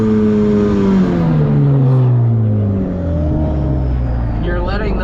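A Ford Fusion drifting after a clutch dump: the engine revs loud and high, then winds down as the car slides, close and continuous, while someone talks.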